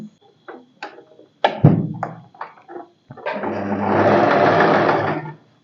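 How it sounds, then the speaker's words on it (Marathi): A sewing machine runs in several short stop-start bursts while stitching a half-inch folded sleeve edge on a boatneck dress, then settles into one longer steady whirring run close by. "मग पुन्हा हाफ इंच फोल्ड करायचं आणि या कडेवरून शिलाई मारायची"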